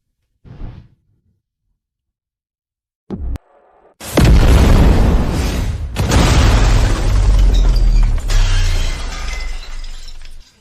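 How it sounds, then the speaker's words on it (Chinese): Cannon fire in a sci-fi battle scene: after a few short thuds, a massive roaring blast erupts and keeps rumbling with shattering debris, followed by further heavy explosions, loud and close. "是时候让阎罗那条老狗听一听我们的炮声了"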